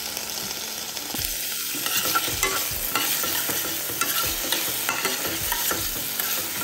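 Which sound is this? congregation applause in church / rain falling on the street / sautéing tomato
sautéing tomato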